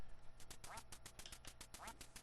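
Repeated quacking from a duck in the NES game Duck Hunt, a steady rapid run of chiptune quacks filling the whole stretch at moderate loudness with no voices.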